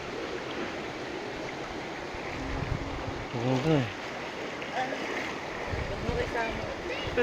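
Flood water flows broadly through a street near a town boundary, a steady rushing wash heard throughout while people talk and exclaim over it close by.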